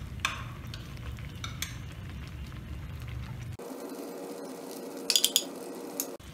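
Butter melting in a frying pan on the stove for Maggi pizza topping, a soft close sizzle with stirring, then a sudden change to a quieter hiss and a few brief metallic clinks.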